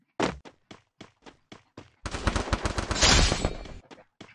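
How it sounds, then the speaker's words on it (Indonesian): Rapid gunfire: a string of sharp single shots, then a dense, loud burst of overlapping shots and blasts, close and punchy. "Mati tapi masih ada tembak-tembakan"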